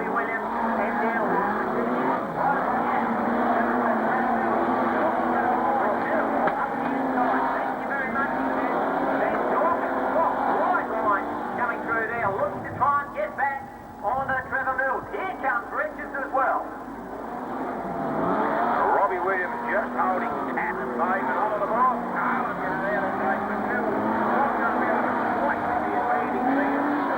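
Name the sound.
modified sedan race cars racing at Carrick Speedway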